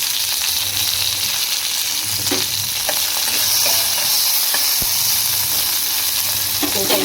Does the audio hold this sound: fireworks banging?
no